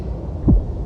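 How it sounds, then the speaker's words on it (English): A single deep, muffled heartbeat thump from the character Finan in the game Honkai Star Rail, one low throb rising briefly out of a steady low hum. "Finan's heartbeat."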